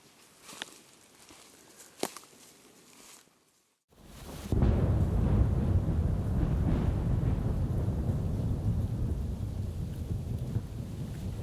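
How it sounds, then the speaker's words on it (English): Steady rain pours across an open field after a quiet stretch, with a soft thunder rumble and a couple of sharp cracks early on before the downpour swells and holds loud and close. "I just felt the rain too"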